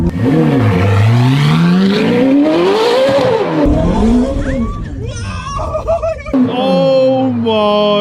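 Ferrari F430 supercar, restored after crash damage, revving hard and accelerating in first gear, a loud rising and falling engine howl close by with excited shouting and screaming voices over it.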